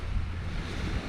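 Small, gentle waves lapping on a broad, shallow beach in Key West, a soft low rumble of surf mixed with steady wind noise on the microphone, with no voices.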